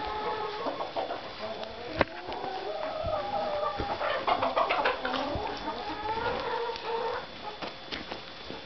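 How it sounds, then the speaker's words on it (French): A flock of chickens clucks and chatters continuously, with overlapping calls and a few sharp clicks and knocks in between. "C'est des poules. Des poules partout."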